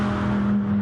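GT3 race car in Gran Turismo Sport passing along the main straight at Fuji Speedway, a brief steady engine drone with a sustained tone, heard close and loud for under a second.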